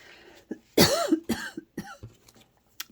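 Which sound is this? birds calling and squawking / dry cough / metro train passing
dry cough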